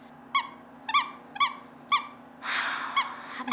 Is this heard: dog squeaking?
yes